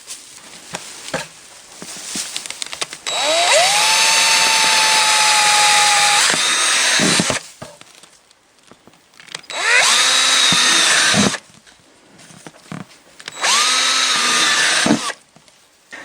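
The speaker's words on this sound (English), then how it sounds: "So I like to drill air holes in there, just a few" A power drill whines through wood in three bursts of several seconds each, drilling air holes in a rabbit nest box, loud and close, with short quiet pauses and clicks between.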